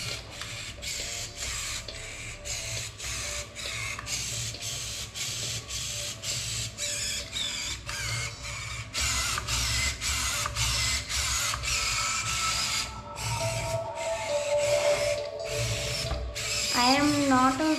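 A Robosen T9 transforming robot whirs and clicks through its dance routine on its own, with rapid ratcheting servo bursts in a steady mechanical rhythm, close and continuous, while a faint chirping electronic tone appears near the end.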